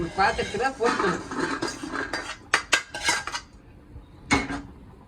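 A cooking pot and metal utensils clatter and clink close by in a home kitchen while vathakulambu is being made, several sharp knocks standing out, with someone talking over the first half.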